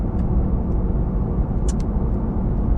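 Steady low road rumble fills the cabin of a Porsche Taycan electric car on the move, a broad constant drone with a couple of faint brief clicks and no talking.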